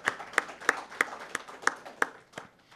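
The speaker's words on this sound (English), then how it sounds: "so he needs a special round of applause" Sparse, distinct hand claps ring out at a conference event, a handful of people clapping in a slow, roughly even rhythm of about eight sharp claps, close and fairly clear.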